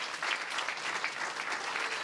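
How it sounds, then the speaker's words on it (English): A crowd at the Starbucks EMEA Barista Championships final day applauds the top 10 finalists, a steady, dense wash of clapping from a large audience that holds even throughout. "Big applause for the top 10."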